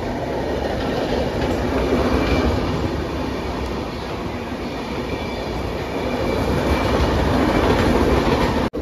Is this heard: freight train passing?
yes